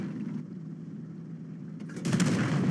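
A tank cannon shot in the World of Tanks video game, fired from a Hetzer tank destroyer: a steady low engine rumble gives way near the end to a louder, broad blast that lingers, with no talking.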